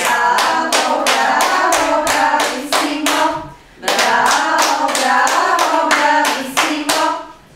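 Small group claps for a child in a therapy class, two bursts of rhythmic, evenly spaced hand claps, close and loud, with a short pause between them.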